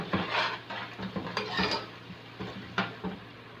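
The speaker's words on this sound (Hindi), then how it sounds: "ये अब हम इसके अंदर शामिल कर देते हैं और इसको मिक्स कर लेते हैं" A spoon scrapes and clinks against a cooking pot while biryani masala is mixed in, with repeated metallic knocks and stirring scrapes at close range and no talk.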